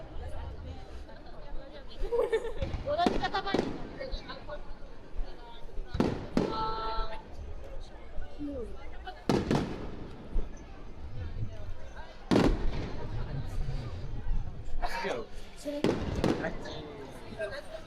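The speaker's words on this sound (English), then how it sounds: "so we get a fireworks show while we're in line" Fireworks at World Expo 2025 Osaka burst in scattered loud booms and crackles at a distance, several spaced explosions over a murmuring crowd with people talking nearby.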